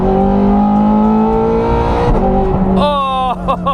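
A Ferrari 430 Scuderia engine revs hard, a loud, dense, close roar holding high rpm, then dipping and climbing again with rising whines through quick gear changes.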